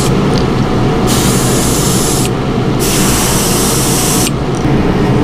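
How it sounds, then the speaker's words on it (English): An airbrush sprays paint onto crappie fishing lures, loud bursts of steady hiss that start and stop in long sprays over a constant background noise, with no talking. "when you hit that trigger, to be confident in where that's going to spray"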